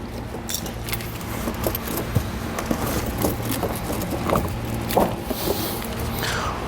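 Konig tire chains clinking and jangling as they are fitted and seated onto the tire of a 2020 Ford F-150, with scattered metallic rattles and scrapes close by over a steady low background hum.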